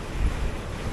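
Strong wind blows across an exposed hilltop near a cave, a steady, loud rumbling gust buffeting the microphone with no voices.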